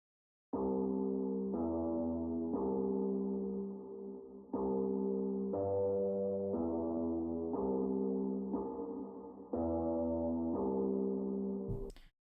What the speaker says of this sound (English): this bass guitar melody, which I ran it through an electric guitar amp